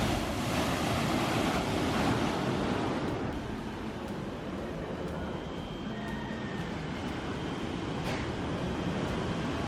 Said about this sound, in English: That's a big wave coming.